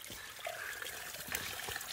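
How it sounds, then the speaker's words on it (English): Mountain spring water from an off-grid gravity-fed homestead system pours out of an overflow line into a floor drain, a steady continuous trickling rush, moderately close and unbroken. "all the water that's flowing through the system is now coming out this overflow line and flowing into this floor drain"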